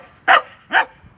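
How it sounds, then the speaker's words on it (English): A dog named Dice barks twice indoors, two sharp, moderately loud yaps spaced about half a second apart against a quiet background. "Sorry about Dice barking there."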